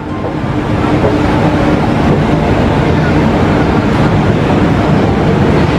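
Purwojaya executive train standing at Gambir station in Jakarta, giving a loud, steady rumble with a hiss of station noise throughout, and voices faintly mixed in.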